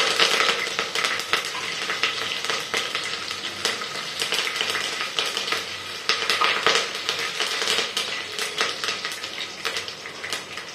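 Peanuts sautéing in a hot pan for Khandeshi khichdi, a steady close sizzle and crackle of frying oil with occasional scrapes and stirring clinks of a utensil against the pan throughout.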